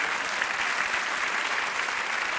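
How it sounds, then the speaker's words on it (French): Studio audience on a Belgian TV comedy show breaks into sustained applause, dense even clapping that fills the room for a couple of seconds with no voices on top. "On peut l'applaudir, attends."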